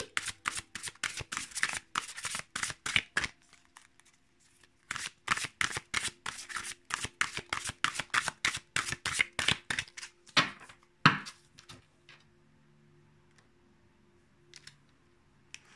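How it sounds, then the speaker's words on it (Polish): Tarot money cards are shuffled close up in rapid repeated riffling bursts, a long run of crisp flicks that pauses briefly, resumes, then slows to a few final snaps as a card is drawn. "wylosujmy sobie jeszcze jedną kartę"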